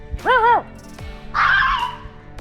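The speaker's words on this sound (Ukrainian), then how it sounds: "Якщо вам заважає сусідська собака, яка постійно гавкає" Two short dog vocalizations, a whiny yelp followed by a rougher bark, close and loud with a brief pause between them.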